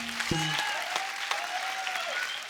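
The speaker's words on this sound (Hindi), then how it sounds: "जोरदार तालियां मुझे।" Studio audience applause on the Kapil Sharma Show, a Hindi comedy program, a steady wash of clapping with a sustained musical tone running underneath.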